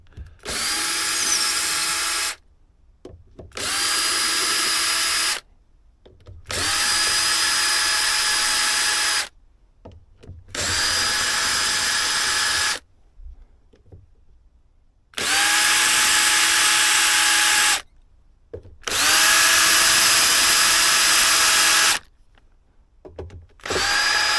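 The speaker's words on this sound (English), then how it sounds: "I've already started to take some of the screws out, so we're going to get the rest out." A power drill backs screws out of the rear panel of a Sound City 30 MK6 1x12 guitar amplifier, whirring in seven steady bursts of a few seconds each, separated by short pauses, loud and close.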